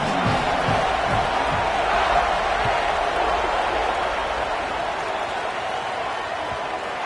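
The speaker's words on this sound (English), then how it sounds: "This crowd bringing the energy and noise early." Stadium crowd in a Madden-style college football video game keeps a steady, loud roar of cheering and noise throughout, a broad continuous wash with no breaks.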